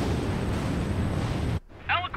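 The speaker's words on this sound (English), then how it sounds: "Alicorn fired on her with the rail guns" A sustained roaring blast of rail gun fire from the Alicorn in Ace Combat 7, attacking a landing ship at sea. The dense roar cuts off abruptly and a brief radio voice follows.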